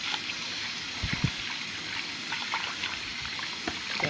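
Basmati rice being rinsed under running tap water, a steady trickling and splashing flow with a few brief louder splashes, close by and alone without talk.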